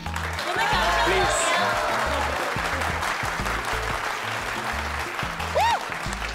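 An audience on a cruise ship gala evening applauds the winner, a steady wash of clapping over background music, with a few brief high tones cutting through.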